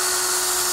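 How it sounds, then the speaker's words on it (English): Drill boring a hole with a 15/64 drill bit while installing Knight Rider lights on a WS6 Trans Am, a steady high-pitched whine with a constant tone, close and continuous, no talking. "And you want to drill a hole."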